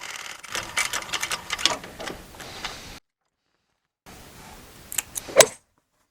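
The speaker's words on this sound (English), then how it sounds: "I'm just going to show you how we top stitch this." A sewing machine top-stitches along a flattened leather seam during chair reupholstery, running in a fast ticking burst for about three seconds, pausing, then starting again briefly with a few sharp clicks before stopping.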